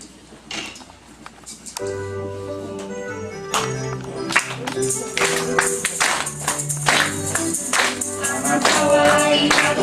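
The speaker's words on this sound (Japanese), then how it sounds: "私たちが賛美するときに一緒に、拍手してくださいね。" A congregation at a worship gathering in the Nishinari civic hall claps along with a sung praise song and accompanying music, the rhythmic claps growing louder and busier under the singing.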